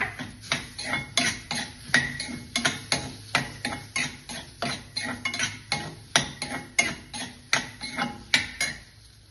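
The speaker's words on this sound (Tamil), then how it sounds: "இப்போ வந்து நான் வந்து இந்த பைனாப்பிளை வந்து இதில் போட்டு வறுக்க போறேன்." Pineapple stirred with roasted semolina in a pan gives a rapid, regular series of sharp metallic scrapes and clanks from a spoon against the pan, close and rhythmic throughout.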